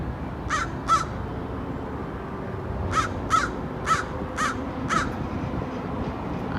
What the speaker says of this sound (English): a crow has made a bunch of noise near me